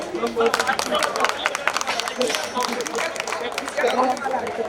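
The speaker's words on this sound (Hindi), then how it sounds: "तालियां बजा के" Audience clapping at a mushaira poetry gathering, dense continuous applause filling the room, fairly loud, with crowd chatter mixed in.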